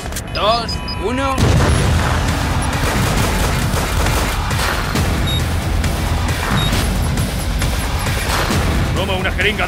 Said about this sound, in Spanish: Explosión en 3, 2, 1.